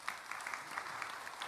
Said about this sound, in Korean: 우리 장로님들을 위해서 박수 한번 보내드립시다.